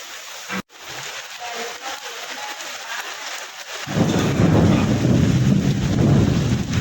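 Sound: heavy rain with thunder

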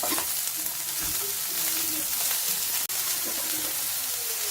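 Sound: green and yellow capsicum and cabbage stir-frying on high flame

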